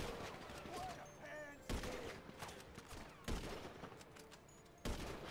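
Gunfire in GTA 5 during a zombie-apocalypse mode: three sharp, loud shots or short bursts spaced about a second and a half apart, standing out over a busy game background with faint voices.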